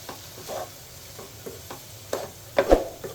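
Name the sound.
grated coconut frying in a pan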